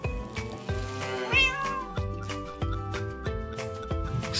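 Cartoon cat in the Farm Tycoon farming game meows, with one drawn-out rising mew standing out clearly above a bouncy, rhythmic game music loop.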